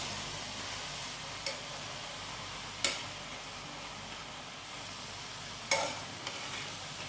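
Grated carrot simmering in milk in a pan, a soft, steady bubbling hiss with occasional spoon scrapes and light knocks from stirring, close and fairly quiet.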